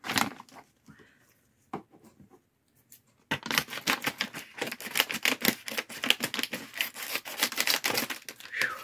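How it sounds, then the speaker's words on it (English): Scissors cut through cinnamon sticks: a few sparse snips, then a quick, steady run of sharp, close crisp clicks and cracks. "I seriously need some new scissors."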